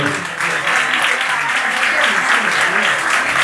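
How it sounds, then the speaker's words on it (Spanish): A nightclub crowd applauding loudly and steadily, dense clapping that fills the whole stretch without pause. "fuerte el aplauso para eso."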